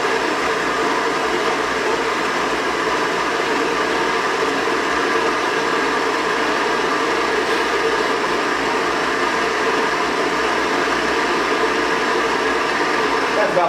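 An espresso coffee grinder runs continuously, grinding beans with a steady, dense whirring drone that holds at an even level throughout.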